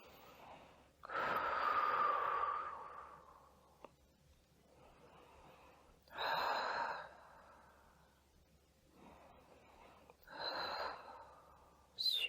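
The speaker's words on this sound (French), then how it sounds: "4 respirations bien profondes" Four deep, slow breaths are taken during a seated upper-body stretch, each a soft, breathy inhale or exhale heard close and separated by quiet pauses.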